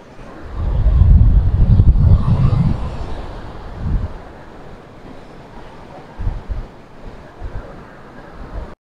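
Surf washing onto a sandy beach at Capalonga, with loud wind buffeting the microphone early on, then a steady softer wash of waves with occasional bursts of rough noise; no clear talk.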